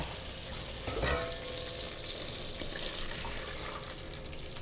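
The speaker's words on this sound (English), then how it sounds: "you can hear the sizzling right now. I have butter melting." Butter melting, sizzling and crackling in a hot pan, a steady close hiss with a brief clink or stir near the start.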